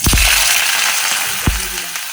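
Black cumin seeds and dried red chillies hit hot oil in a pan, giving a loud, bright crackling hiss with a couple of sharp pops, close by and without talk.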